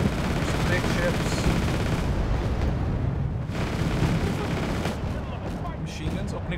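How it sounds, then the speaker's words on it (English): Machine-gun fire during a massive naval ship battle in the Korean War strategy game Wargame: Red Dragon, a dense loud continuous roar of gunfire and explosions that eases slightly toward the end. "Machine guns opening fire on me right now."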